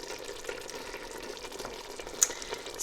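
Soft aubergine curry cooks gently in a pan while a spoon stirs and breaks it up, giving a low, steady bubbling sizzle with small scraping clicks close by, no talking.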